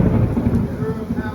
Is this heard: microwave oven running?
no